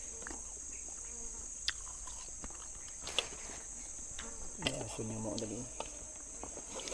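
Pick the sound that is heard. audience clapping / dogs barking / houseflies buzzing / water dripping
houseflies buzzing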